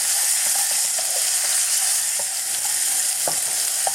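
Ingredients fry in oil in a wok over medium-high heat for a sweet pork stir-fry, a loud continuous sizzle broken by repeated scraping, clacking stirs, close up and without speech.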